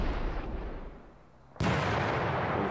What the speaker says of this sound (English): Let's focus on some of the artillery here on the enemy.